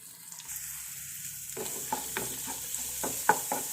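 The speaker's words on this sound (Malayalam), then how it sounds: "ഇളക്കിയെടുക്കുക." Egg and spinach thoran with oil and pepper being stirred in a frying pan, soft frying hiss under a series of irregular scraping and tapping strokes of the spoon, close and moderately loud.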